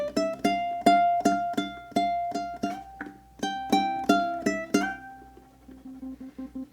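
Ukulele plays a short melodic phrase, the closing line of a tune's first section, in clear plucked notes with a steady rhythm, close and alone, ending in softer repeated notes.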